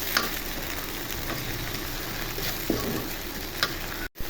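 Onion paste fries in hot oil after a tempering of radhuni spice, for a fish dopiaza, with a dense, steady sizzle, occasional stirring knocks and a momentary dropout near the end.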